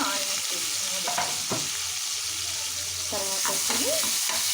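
Sliced onions, curry leaves, mustard seeds and cumin fry in hot oil for a brinjal curry, giving a loud, steady, dense sizzle throughout, with a few brief stirring knocks and faint vocal fragments.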